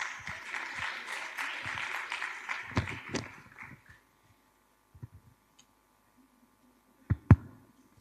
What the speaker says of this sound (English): Let's have a wonderful round of applause